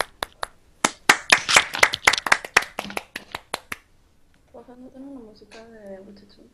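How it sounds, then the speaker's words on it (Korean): Audience at a Korean-language speech contest final clapping, a burst of sharp handclaps that swells briefly and then fades out, after which a person speaks. "자, 박수 주시죠."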